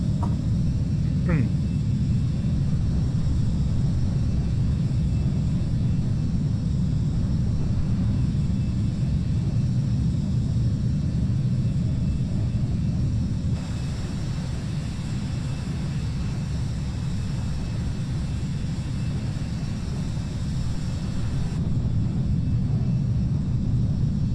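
Embraer E175 jet engines in Microsoft Flight Simulator 2020, a SkyWest flight, give a steady, loud low rumble that holds throughout with little change, and a voice talks over it.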